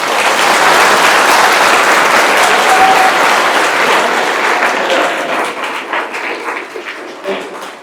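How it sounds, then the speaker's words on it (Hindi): Audience applause at a student discussion event on Kashmir, a dense wash of many hands clapping loudly from the start, then thinning into scattered individual claps as it fades toward the end. "ताली होनी चाहिए।"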